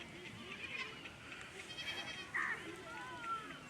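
Goats bleat at dusk while returning home after grazing. Several short, faint calls rise out of outdoor background noise at a moderate distance, and someone talks over them.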